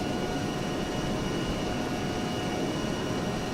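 An A-10C Thunderbolt II jet in the ARMA 3 combat game, its engine a steady broadband roar and whine that holds constant and loud throughout with no talking.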